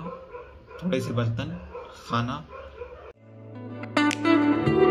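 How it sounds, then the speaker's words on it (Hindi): Several dogs bark from the street below a home in Indore. The barks come in short, scattered bursts and are partly masked by someone talking close to the microphone. "बहुत सारे कुत्ते हैं नीचे साइड, तो वो बहुत ज़्यादा भौंकते रहते हैं"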